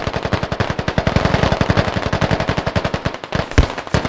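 Sustained automatic gunfire in the Squad military game, a fast, even stream of loud close shots lasting several seconds, ending with a heavier boom.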